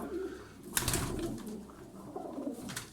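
Pigeons cooing close by, soft repeated throaty coos with a brief flutter, set against a steady outdoor background.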